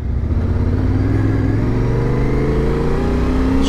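Yamaha T7 motorcycle riding along a road near the coast, its engine droning loud and close at a steady pitch that rises slightly as it pulls along, with rushing wind noise underneath.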